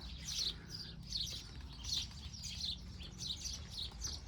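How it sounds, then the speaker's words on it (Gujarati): Several sparrows chirp in quick, bright bursts, fairly close, over a faint low background hum. "ચકલ્યું જુઓ સરસ કિલો કરે છે"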